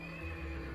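A horse neighs in the video game Dracula Origin, a short, moderately loud whinny over a steady low game background hum, with no talking.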